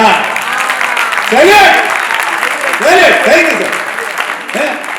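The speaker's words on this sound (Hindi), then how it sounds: "बताना आपकी तालियों से" At an open-air poetry recital during a Dussehra fair, an audience claps in a loud, sustained patter while a reciting voice carries over the top.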